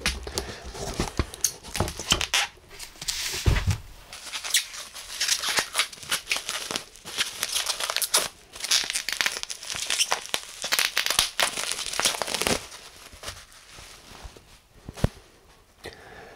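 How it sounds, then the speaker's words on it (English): Cellophane wrap is peeled and crinkled off a 4K UHD disc set of The Hitcher, with close, irregular crackling and rustling bursts and short pauses between them. "Doesn't look like there's any one way of sliding this out of the cellophane."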